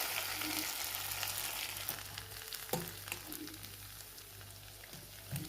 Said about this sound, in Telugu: పోపును మనం కొబ్బరి పచ్చితో వేసుకుందాం